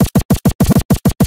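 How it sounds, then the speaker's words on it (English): A DNA scratch effect in Virtual DJ gives quick, evenly timed scratch bursts, about nine tight pulses with short clean gaps in a steady rhythm, loud and close, with no talking. "Now hear the difference when I start using the DNA scratch."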